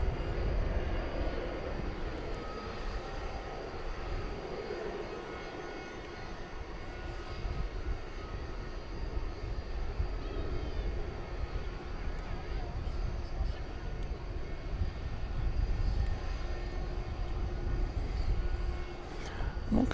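An Iberia airliner at Dallas Fort Worth at night gives a low, moderate engine rumble that swells and fades slightly over twenty seconds, heard from some distance.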